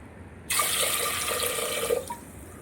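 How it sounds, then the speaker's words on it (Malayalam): Water is poured into a pot of soaked rice and beans for Kerala-style payar kanji, a close, bright gushing stream that starts suddenly, runs for about a second and a half, then tapers off. "2 ബൗള് വെള്ളം ഒഴിച്ച് അടുപ്പിലേക്ക് വയ്ക്കുക."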